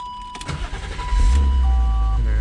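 A 1997 BMW 328i cranking briefly with a starter whir, then catching and settling into a loud, steady idle close by.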